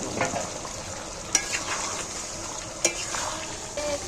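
Potatoes and chicken are stirred and fried together in a pan with spice, giving a steady sizzle, scraping strokes and two sharp metallic clinks of the utensil.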